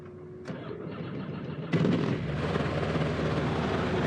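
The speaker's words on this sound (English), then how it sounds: "and start the engine" A gyroplane's engine cranks over with a short burst, then catches and settles into a steady running drone close by, with no one talking.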